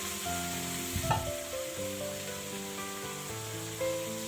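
Meat cooks in a pan on a gas stove with a soft, steady sizzle throughout, and a short stirring clatter comes about a second in.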